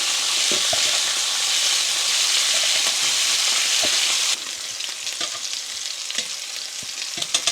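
Garlic and vegetables fry in oil in a pan, a loud, dense, continuous sizzle that drops in level partway through, broken by occasional clinks and scrapes of stirring.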